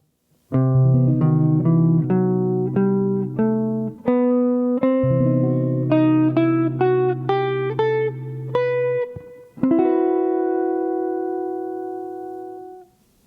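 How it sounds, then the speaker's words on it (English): A sequence of sustained, ringing Lydian sharp 2 jazz chords is played one after another, the final chord held and slowly fading out. "we're going to do more of a Lydian sounding chord"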